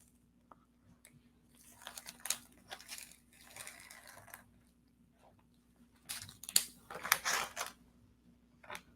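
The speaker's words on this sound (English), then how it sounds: "It's just taking off this tape." Masking tape peels off an acrylic painting in a few short, quiet crinkling rips, two main bursts separated by faint rustling, close and soft with no talk.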